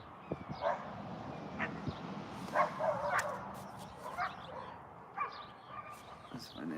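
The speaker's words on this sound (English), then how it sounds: "That's my neighbor's dog." Neighbor's dog barking in short, scattered bursts at some distance across a quiet outdoor setting, mixed with a few higher yips and whimpers, while a person speaks quietly between the barks.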